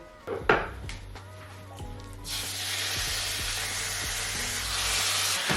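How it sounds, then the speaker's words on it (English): Coconut-oil cooking spray sizzles steadily in a hot frying pan over medium heat, a loud broadband hiss that starts after a few clatters and spray bursts and holds for several seconds. "I'm just going to pop my frying pan on a medium heat and spray a bunch of this lower cal spray."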